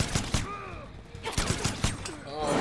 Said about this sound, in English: when you see him go for the gunshot,